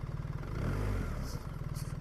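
BMW R 1300 GS boxer twin motorcycle engine idling with a low, steady diesel-like thrum and lumpy pulsing, fairly quiet and close.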